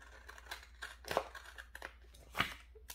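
Scissors trimming a paper planner sticker give a few close, crisp snips spaced irregularly, quiet against a faint background hum.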